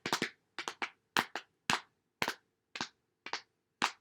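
Hands slapping on knees to imitate a bear running through the woods, in repeated crisp double and triple pats with short gaps, close and fairly loud, with no talking.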